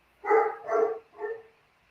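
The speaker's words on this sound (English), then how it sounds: "those are my attack dogs, and I do have attack dogs, and they are going crazy on something out here" Attack dogs barking outdoors at something in the yard: three loud, close barks in quick succession, each tapering off, with quiet in between.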